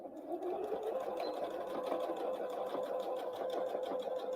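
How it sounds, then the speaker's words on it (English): A sewing machine runs steadily, stitching Christmas tree napkins to the end of a seam; its continuous close whirring hum is fairly loud and unbroken throughout. "And I'm just stitching all the way to the end"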